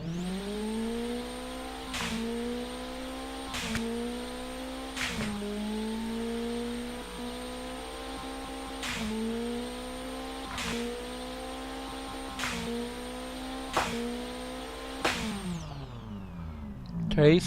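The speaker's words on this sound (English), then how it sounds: "let's just go through the rev range again" Video game car engine, one of two engines in a dual-engine showcase, revs repeatedly up through the rev range in steady rising sweeps with sharp shift breaks, ending in a brief burst; loud and continuous, no talking.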